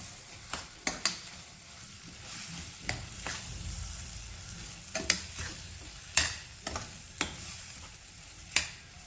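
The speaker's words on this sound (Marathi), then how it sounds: "आणि याला छानपैकी मिक्स करून घ्यायचं." Chivai (chiu) greens being stirred and mixed with dal in a pan, with a spoon scraping and clacking in an irregular rhythm over a faint, steady sizzle, close and fairly quiet.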